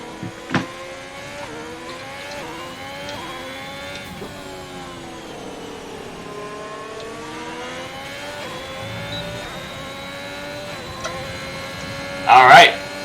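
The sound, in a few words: race car engine on a hot lap in a racing video game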